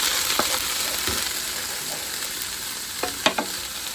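Garlic, onion, thyme, pepper and scallions fry in a pot of Guyanese-style stew chicken, a steady close sizzle broken by a few sharp stirring clinks and scrapes near the end.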